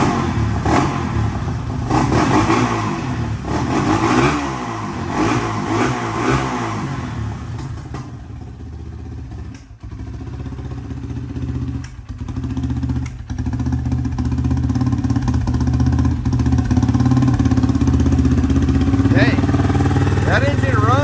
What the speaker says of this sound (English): That engine runs pretty good.